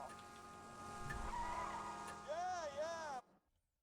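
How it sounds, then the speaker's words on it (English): A car driving and boosting in Borderlands 2 plays as a steady engine drone with rising whine tones, sweeping pitch swoops near the end, then cuts off abruptly. "you can see how fast I am now compared to Amy's car. Yeah, I'm boosting"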